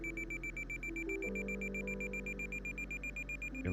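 Steady electronic beeping from the Condor 2 glider simulator game, a quick, evenly spaced series of faint tones repeating throughout with no talk.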